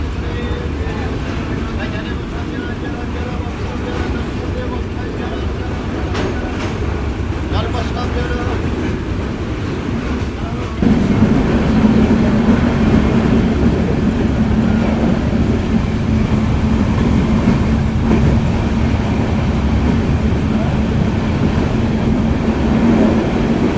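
A passenger train on the Joypurhat to Natore line crosses the rail bridge over the Atrai river, a steady rolling rumble that grows louder and heavier about halfway through, with a voice talking over it.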